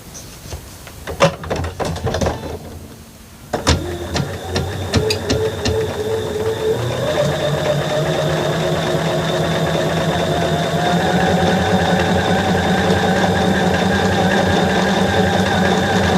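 A sewing machine stitches a rectangle onto a quilt unit, starting with a few short bursts and clicks, then settling into a steady, loud, continuous close-range whir.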